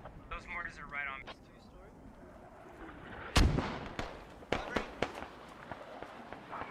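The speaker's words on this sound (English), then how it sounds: "Those mortars are right on me." Mortar rounds in the military shooter Squad land with one heavy, booming blast midway, followed by several sharper cracks and impacts; a voice talks briefly before the explosion.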